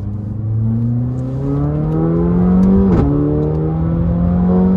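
A modified Mercedes CLA45 AMG engine revs up steadily with exhaust valves closed, giving a muffled, deep tone, dips briefly with a gear shift, then keeps climbing.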